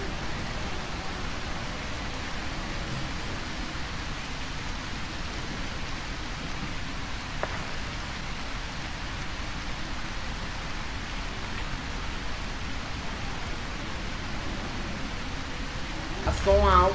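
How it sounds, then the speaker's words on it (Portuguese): Steady rain in the video game A Quiet Place: The Road Ahead, a constant wide hiss of falling water that holds evenly throughout, with a brief sharper noise at the very end. "Como o barulho da chuva começa a cachoeira pode abafar os meus ruídos"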